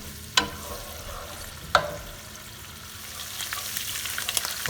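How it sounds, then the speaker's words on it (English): Chopped garlic in oil for garlic and cilantro pasta, a steady frying hiss with two sharp utensil taps early on and a slightly livelier crackle toward the end. "So now we're going to let this garlic oil simmer right"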